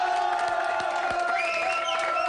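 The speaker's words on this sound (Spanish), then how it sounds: "Fuerte el aplauso para la Universidad de Chile." A crowd at a comedy show in Chile cheers, whoops and applauds loudly and continuously, with shouted voices rising over the roar and a long whistle or high yell near the end.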